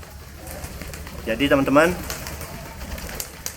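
A racing homing pigeon gives a single soft, throaty coo, close by and brief, as someone speaks over it with quiet background noise.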